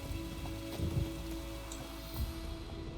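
Rain falling in the video game The Witcher 3: Wild Hunt, a steady soft patter of drops on surfaces with a few slightly louder taps, faint and continuous, no talk.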